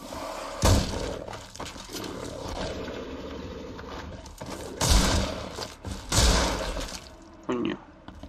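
Rifle fire in The Sinking City video game, several sharp loud bangs spaced a few seconds apart over a murky game background.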